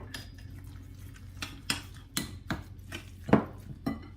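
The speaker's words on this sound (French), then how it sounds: "Et je mélange." Minced meat stuffing with a cracked egg mixed by hand in a bowl, heard as a run of quiet utensil clinks and soft scrapes against the dish at an irregular pace, close by.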